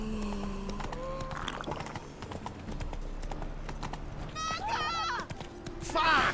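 Roach the horse galloping in The Witcher 3 video game, a fast clip-clop of hooves mixed with game music and effects, with voices speaking over it.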